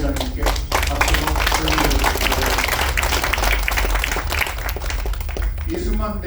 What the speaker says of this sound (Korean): 다시 한번 우리 김 회장님께 박수로